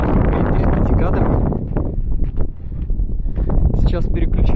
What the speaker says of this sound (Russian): Сильный ветер дует.